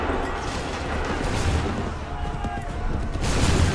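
Massed musket volley gunfire in Assassin's Creed 3, a dense, continuous crackle of shots and booms with heavy low rumble, loud and sustained throughout, with shouted voices underneath.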